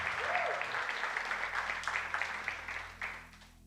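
Scattered applause from a church congregation during a sermon, a modest run of claps that thins out and ends with a few final sharp claps.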